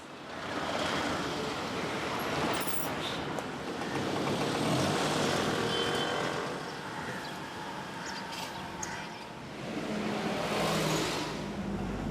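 A Morris Minor car drives along in traffic, slipping between larger saloons, with a steady broadband road and engine rumble throughout, swelling and easing, plus wind noise buffeting the microphone.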